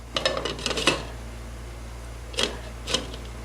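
A lid set onto a pot of stewed apples, pineapple and black cherries: a cluster of light metallic clinks and scrapes, then two more brief clanks after a pause, faint over a low kitchen hum.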